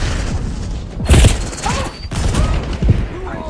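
Loud in-game explosions and bursts of gunfire in Call of Duty Warzone, with a heavy booming blast followed by further crashes and rattling, a voice briefly heard amid the chaos.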